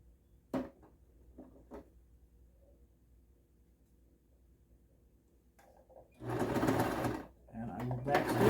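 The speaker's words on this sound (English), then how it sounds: "I'm going to keep it on the zigzag stitch" A sewing machine runs a zigzag stitch on a special needs face cover and neck shield, starting after some quiet handling clicks and a voice. It then bursts into two close, loud runs of rapid stitching separated by a brief pause.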